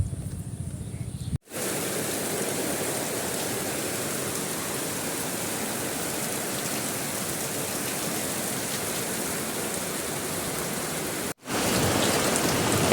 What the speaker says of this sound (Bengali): দেখেন কেমন বৃষ্টি